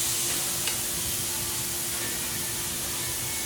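Ribeye steaks sear on a hot grill, giving off a dense, steady hiss and crackle that stays loud and even throughout, with no one speaking.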